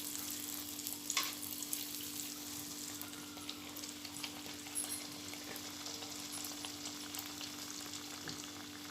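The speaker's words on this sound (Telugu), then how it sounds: "చక్కెర అత్రసాలు బాగా పొంగుతున్నాయి." Sweet sugar ariselu rice cakes frying and puffing up in hot oil, a steady close sizzle and crackle that holds evenly throughout with an occasional sharper pop.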